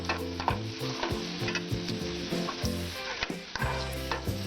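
Ingredients for a poha payasam fry in a pan on the heat left after the stove is switched off, with a soft sizzle under repeated quick scrapes and taps of stirring.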